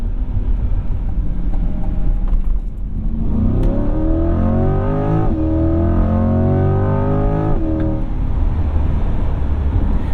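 A 2021 Chevrolet Corvette Z51 accelerates hard, its engine rising in pitch through several gears with quick shift breaks, loud and close over road and wind noise.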